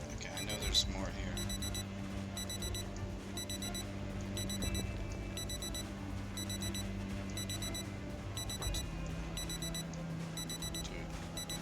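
An alarm rings in the Project Zomboid video game, a rapid repeating electronic beep in regular bursts that continues throughout over a low hum, with talk running underneath.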